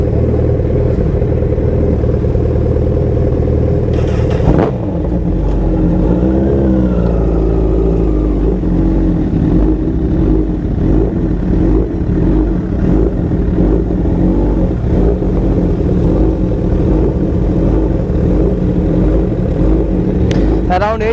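About eight superbikes, including three Suzuki Hayabusas and two Honda CBRs, rumble and rev nearby, engines rising and falling as they ride and accelerate, with some wind noise throughout.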